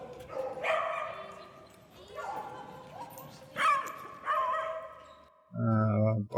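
Beagles bay and howl close by in long, drawn-out yowls mixed with short yips, ending with a brief, low, loud burst.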